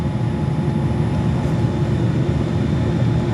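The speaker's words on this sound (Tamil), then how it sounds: "இது கொஞ்சம் சத்தம் கம்மியாக இருக்கும் நினைக்கிறேன் நாங்கள் முதல் வந்த ஃப்ளைட்டை விட." Steady, loud cabin roar inside a passenger airplane in flight, an unbroken broadband drone of engines and rushing air throughout, with no talk.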